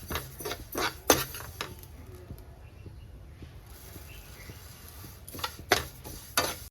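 Sesame seeds and roasted gram dry-fry in a pan while a utensil stirs and scrapes, giving quiet rustling with several sharp metallic clinks near the start and end.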